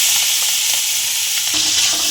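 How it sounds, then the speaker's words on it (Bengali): Shrimp seasoned with turmeric and salt fry in hot oil in a kadai, a steady loud sizzle filling the short stretch with a slightly deeper crackle toward the end, no voices. "তো চিংড়ি মাছগুলো ভেজে নেবো।"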